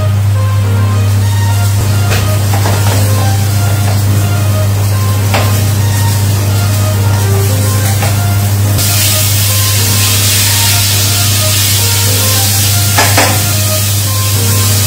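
Flour-dusted turkey steak fries in a hot frying pan, giving a loud, steady sizzling hiss that runs unbroken from start to finish, with a low hum underneath and no voices.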